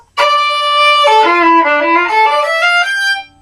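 A solo violin slowly plays a single measure of the middle verse of a song, sustained bowed notes stepping down and back up in pitch, clear and close with no talking.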